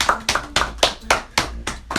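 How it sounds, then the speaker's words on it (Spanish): Hands clap in a steady rhythm, about eight sharp, close claps in two seconds with no voices, from people reacting to a Chainsaw Man anime episode. "Un aplauso, un aplauso."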